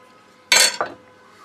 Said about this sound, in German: schneide sie einmal rundherum bis auf den Kern